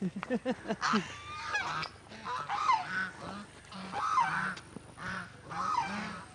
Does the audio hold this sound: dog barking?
no